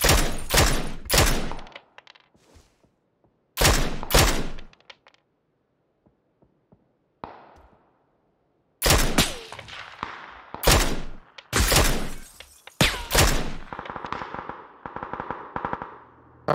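PUBG video game gunfire: loud bursts of rapid automatic fire and single sharp shots in separate clusters with quiet gaps between them, then a denser stretch of shots near the end, with no voices.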